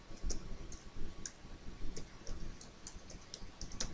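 A series of crisp computer mouse clicks, roughly a dozen irregular taps over a few seconds, close and fairly quiet while someone sets up an email campaign in an autoresponder editor.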